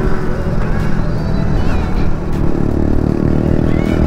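Motorcycles of a youth riders' club set off together on a Sunday club ride, their engines producing a loud, continuous, rumbling drone that fills the scene without a break.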